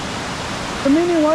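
A small waterfall on the Credit River pours with a steady, even rush of white water, close and constant, and a person's voice briefly speaks over it near the end.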